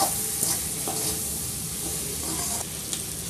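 Ground black mustard being stirred into a dhaba-style instant pickle, giving a soft continuous sizzle with scattered scraping stirs of a spoon. No one speaks.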